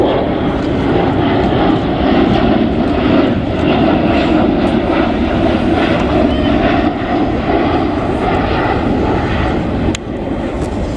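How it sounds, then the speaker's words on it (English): A Wedgetail AW1 airborne early-warning aircraft flies in at the RIAT 2025 airshow, its loud, steady engine roar sustained throughout with no talk. "In from the right then, the new Wedgetail AW1."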